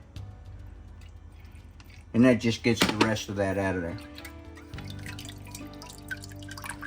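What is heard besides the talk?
water poured into a can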